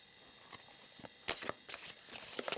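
Crisp riffling and slapping of tarot and oracle cards being shuffled in quick bursts, close by, with short pauses between shuffles and no talking.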